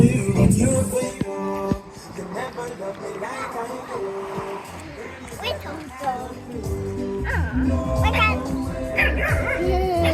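A dog barks and yips amid a busy mix of voices and background noise at a jerk centre in Jamaica, the barks close and intermittent over the chatter.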